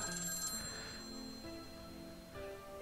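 An old black telephone rings in a classroom, its bell trilling in a short burst near the start and again toward the end, fairly faint against a steady background hum.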